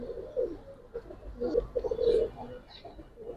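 Giribaz and coloured pigeons cooing in a loft, a few soft low coos rising and falling close by with light rustling between them.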